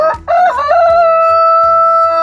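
A rooster crows loudly and close by in a wire-fenced backyard coop, one long drawn-out call that holds steady to the end.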